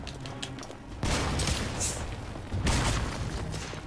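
Heavy booming blasts of a grenade explosion in the video game The Order: 1886, two loud bursts a second or so apart, each trailing into a rumbling, crackling roar of gunfire.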